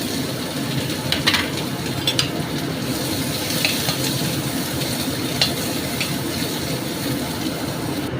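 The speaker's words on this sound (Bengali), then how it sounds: "গরম হয়ে গেছে এখন আমি এর ভিতরে পেঁয়াজ দেব" Onions frying in hot oil in a pan while a hilsa fish dish is cooked, giving a steady, dense sizzle with a few light stirring clinks, close by and without speech.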